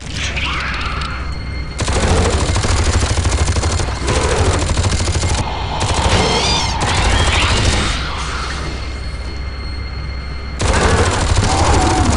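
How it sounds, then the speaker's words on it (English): Minigun in Aliens vs Predator 2 firing long, loud sustained bursts of rapid gunfire with brief pauses between volleys, heavy booming low end throughout. "This minigun could just destroy the strongest enemies"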